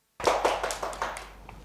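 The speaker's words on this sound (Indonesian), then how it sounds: "Tepuk tangan dong untuk Irwan" A small group in a classroom claps briefly, a short run of close, uneven hand claps that starts abruptly and fades out within a second and a half.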